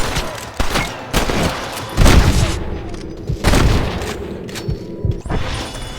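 Gunshots in the Red Dead Redemption video game, several loud booming shots and rapid volleys spaced through the scene, close and punchy with echoing tails.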